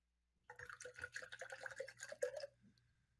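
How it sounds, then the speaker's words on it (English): Water poured from a bottle into a cup, a short burst of gurgling, splashing liquid lasting about two seconds before trailing off, close and fairly quiet. "It's pouring my water bottle into my cup because I ran out of water."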